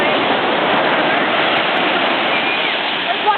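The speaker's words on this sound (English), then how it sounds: "See how... the waves like flying." Ocean waves crash and overlap in a continuous, loud roar of surf that fills the whole stretch without a break, with a person talking faintly underneath.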